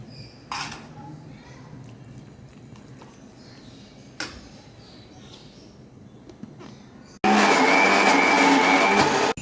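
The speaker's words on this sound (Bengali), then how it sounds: "আমি এটা নিজের ইচ্ছা মতো ব্ল্যান্ডারে করে দিচ্ছি" An electric blender grinds minced beef for kebabs, cutting in suddenly near the end with a loud, steady whirring roar after a quiet stretch with a few clicks and knocks.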